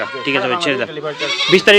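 A five-month-old male goat kid at a Bengali livestock farm bleats several times in quick succession, loud and close, with wavering, nasal calls that rise sharply at the end.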